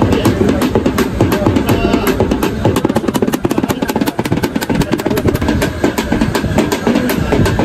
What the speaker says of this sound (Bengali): ফাইনালি আমাদের ট্রেন ছেড়ে দিয়েছে মালদা স্টেশন থেকে।